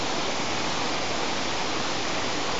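Cambugahay Falls in the Philippines, a waterfall heard as a dense, steady roar of falling water that fills the whole stretch without change or voices.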